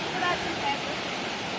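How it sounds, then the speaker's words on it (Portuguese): Tombador waterfall in Nobres, Mato Grosso, Brazil, gives a steady, broad rushing roar of falling water. The wash is continuous and fairly close, with no voices over it. "Essa é a Cachoeira do Tombador."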